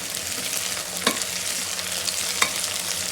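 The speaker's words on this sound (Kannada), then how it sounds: "ಸೊ ಪುದೀನೂ ಕೂಡ ಚೆನ್ನಾಗಿ ಫ್ರೈ ಮಾಡ್ಕೊಳ್ಳೋಣ ಈ ಆನಿಯನ್ ಜೊತೆನೆ" Sliced onions and mint leaves frying together in oil for chicken biryani, an even crackling sizzle up close with a couple of stirring scrapes and clicks, no voices.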